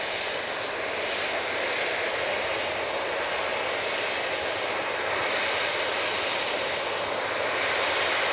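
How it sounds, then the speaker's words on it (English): A Boeing 787 Dreamliner arrives at Manchester Airport, its jet engines a loud, steady roar that builds gently and holds throughout, with no speech. "there's another 2 Dreamliner coming in"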